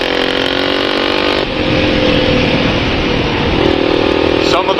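A Honda XR400R dirt bike ridden in the desert after rain, its single-cylinder engine droning loud and steady close by, with a shift in pitch partway through as it holds speed.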